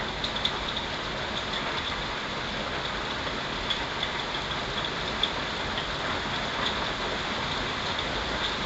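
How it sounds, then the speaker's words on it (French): Steady, dense broadband rain hiss fills the whole stretch, loud and unbroken, with a low engine-like rumble beneath and a few faint ticks on top. "Oh non, il pleut de malade."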